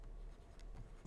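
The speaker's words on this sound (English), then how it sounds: "let me write that on the screen" A pen or stylus writing on a screen, soft scratchy strokes in short bursts over a quiet hum, faint and close.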